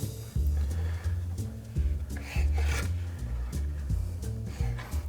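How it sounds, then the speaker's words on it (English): A Y peeler shaves a swath of citrus peel for a bourbon cocktail garnish, giving a steady close rasping scrape in repeated strokes over a low hum. "grab your Y peeler because we need to garnish this. So we're going to just cut a nice swath over this"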